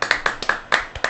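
A few hands clap at a live radio show, seven sharp distinct claps in quick succession over about a second, close and fairly loud.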